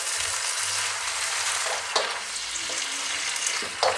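Cavolo nero kale stir-fried in a pan, with a constant bright sizzle and occasional scrapes and knocks as it is stirred, close and steady with no talking.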